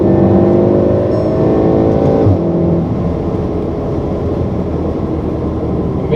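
A stock Volkswagen Golf R MK7 hot hatch accelerates hard from inside the cabin, its engine note rising in a steady loud drone with a brief shift around two seconds before settling into a sustained road-and-engine roar.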